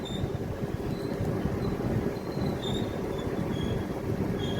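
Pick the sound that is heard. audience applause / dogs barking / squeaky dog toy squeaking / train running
train running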